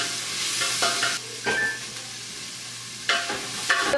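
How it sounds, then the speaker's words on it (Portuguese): Garlic dropped into a pan of softened onions, sizzling steadily up close with a few stirring scrapes and brief bursts of hiss, no voices. "E aí aqui agora vou pôr o alho."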